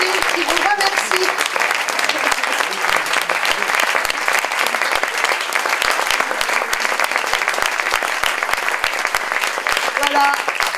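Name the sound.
audience applauding performers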